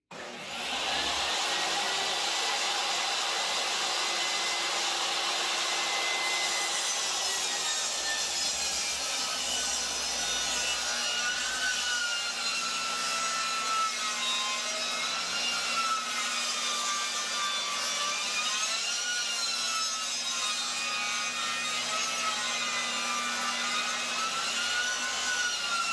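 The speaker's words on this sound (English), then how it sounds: "cut this first one, let your saw take a break, and then cut the next one" Small table saw cutting slowly through a wooden board for a serving tray, its motor whining steadily and the blade grinding through the wood in one long continuous cut, close and loud.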